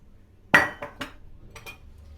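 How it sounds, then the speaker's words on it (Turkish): A spoon stirs boiling water with cloves in a pot while making basil sherbet, striking its side in a handful of sharp, ringing metallic clinks at an uneven pace, close by with no talking. "Ve güzelce karıştırıyoruz."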